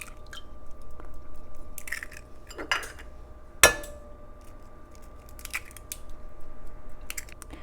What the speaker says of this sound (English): I will break 5 eggs into the bowl